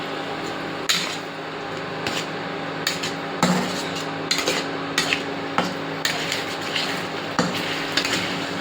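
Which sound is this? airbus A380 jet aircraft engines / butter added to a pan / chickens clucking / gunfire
butter added to a pan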